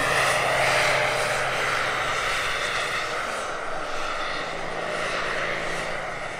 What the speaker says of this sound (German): und der Thomas kommt zurück zum Platz und teilt seine Landung ein